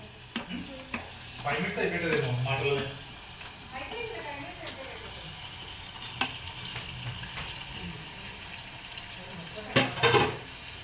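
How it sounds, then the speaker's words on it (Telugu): Mutton pieces are dropped into a hot pan and fry with a strong sizzle, with stirring and scraping and a few clinks of utensils, while people talk over the cooking. "మటన్ వేస్తున్నాను దీంట్లో"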